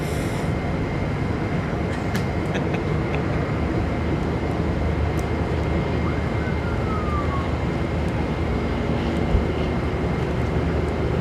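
Airliner taking off at Miami International Airport, a steady broadband engine roar that holds loud and constant throughout with a faint whine sweeping through the middle, no voices.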